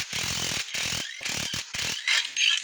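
A ratchet clicks in rapid bursts while loosening head bolts on a 5.3 LS engine, several separate runs of close, crisp pawl clicking with short pauses between.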